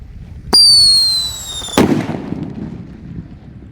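A jumbo pearl thunder firecracker fizzes with a sharp whistling burn for about a second, then bursts in a single loud, close bang that decays into a rumbling echo outdoors.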